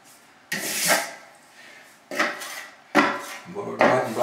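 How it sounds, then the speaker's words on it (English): Plastering trowel wiped clean of drywall mud during a bathroom finish coat: four separate scraping strokes of metal against metal and wood, close and fairly loud, each lasting about half a second to a second. "Now I start wiping my trowel clean."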